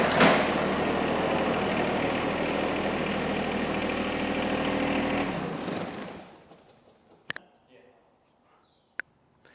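A tractor engine fitted with a tiller runs at a steady idle, loud and close, then cuts off abruptly, leaving near silence broken by two sharp clicks.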